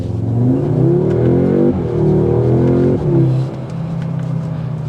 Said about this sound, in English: You got an interior exhaust note, which is something that I always applaud.